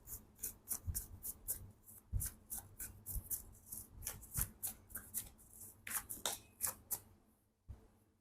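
Tarot cards being shuffled by hand, a quick run of crisp close riffles and flicks in an uneven rhythm, quiet and alone.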